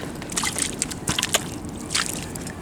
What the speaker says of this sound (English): Hear that lovely squelching sound.